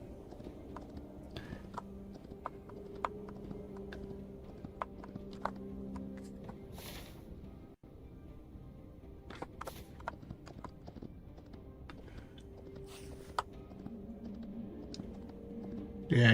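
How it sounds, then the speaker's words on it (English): Horse hooves clip-clop at a quick, steady gait during riding in the video game Hytale, crisp and close over a soft, sustained musical drone, with no talking. "Yeah, you travel really fast on the old horse."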